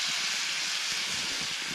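Tea with orange pekoe tea bags steams over an open campfire beside a lake, giving a soft, continuous hiss with faint low crackles underneath and no talking.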